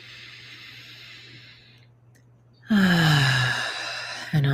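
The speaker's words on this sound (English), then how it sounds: "Let's take a full deep breath in. Exhale through the mouth. Inhale deeply." Deep breaths during a guided meditation session: a long, soft airy exhale followed by a louder breath with a voiced, sigh-like tone, heard close and alone with no talk.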